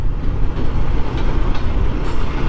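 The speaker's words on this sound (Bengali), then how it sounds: "এক পাশে ট্রেন যাচ্ছে আর এক পাশে আমরা" A train rolls past alongside a motorbike ride on the road to Shahagola, its steady heavy rumble and faint rail clatter close and continuous, with no talking.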